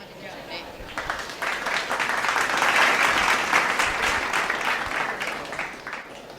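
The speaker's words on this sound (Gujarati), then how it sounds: "જોરદાર તાળીઓ થઈ જાય જુવેરિયા માટે." An audience at a higher-studies scholarship programme breaks into sustained applause that swells to a dense peak midway, then eases off slightly while still going.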